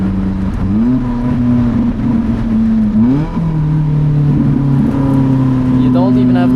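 Porsche engine pulling hard up a Swiss Alps mountain pass, a loud, close drone that rises in pitch through the gears with brief dips at each shift, talk over it.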